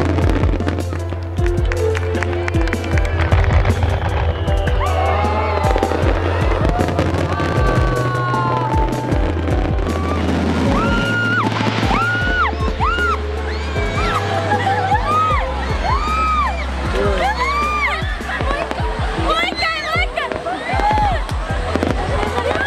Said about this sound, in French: les gens acclament les feux d'artifice